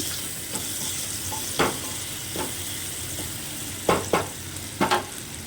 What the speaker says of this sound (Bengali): আদাটা দিয়ে একটু নেড়ে নিচ্ছি